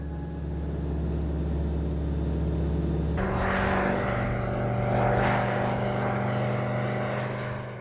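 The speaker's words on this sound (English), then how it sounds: "The Sting, a genuine dynamo among ultralights." A TL-2000 Sting ultralight aircraft drones steadily in flight. Its engine tone shifts abruptly about three seconds in, then holds a loud, even hum that swells slightly and eases off toward the end.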